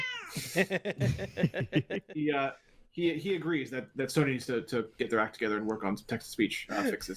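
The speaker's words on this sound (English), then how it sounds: "That's our cat" A house cat lets out a brief meow right at the start, and then a person keeps talking over the rest of the sound.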